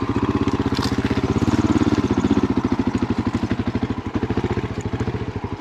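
A dirt bike engine with a heavy flywheel labours up a steep ravine trail, a loud, close, low thumping putter firing in a steady rapid rhythm that slows slightly toward the end, with some clatter and no talk.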